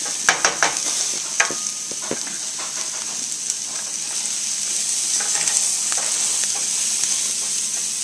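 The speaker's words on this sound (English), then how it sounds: "So you just keep stirring." Spanish rice fries in a pan while being stirred, a constant bright hissing sizzle with quick scraping strokes and a few sharp taps of the spoon near the start, close up and without talk.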